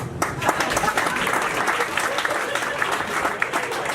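A comedy club audience bursts into lively applause and clapping, a full crowd sound with scattered voices and cheers mixed in throughout.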